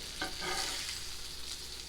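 Olive oil sizzles softly in a pan as pork schnitzel shallow-fries, a steady frying hiss with a faint scrape of stirring near the start.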